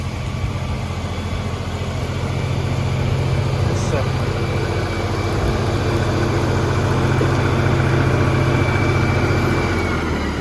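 A tractor engine idles at camp near a food plot during wind and rain, a steady low rumble running throughout beneath a voice and wind noise.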